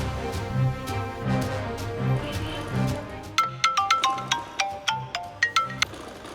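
A phone rings during a call with a series of bright, repeated electronic ring tones in a quick rhythm, starting after a few seconds of low background murmur.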